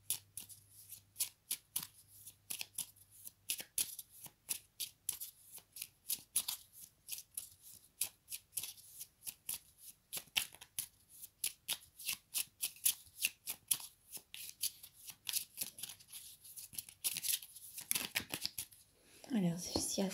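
Oracle cards are shuffled for a reading with rapid, repeated riffling flicks that keep up a brisk, uneven rhythm, close and crisp, before a brief voice is heard at the very end.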